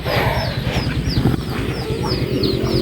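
Village ducks kept by rural households in Malaysia, a close flock giving rapid, overlapping nasal calls in a continuous busy chatter.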